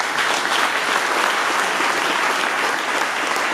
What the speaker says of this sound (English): Give my mayor a round of applause